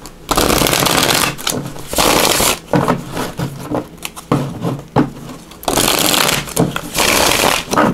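A deck of Sun and Moon Tarot cards is shuffled close up in loud riffling bursts, each rush of card noise broken by short gaps, with no one speaking.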